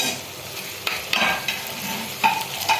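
Crushed ginger, garlic and curry leaves fry in hot oil in a pan for a Kerala-style pappadam curry, a close steady sizzle broken by a few sharp scraping stirs, with no voices.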